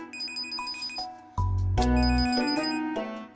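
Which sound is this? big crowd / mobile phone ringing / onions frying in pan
mobile phone ringing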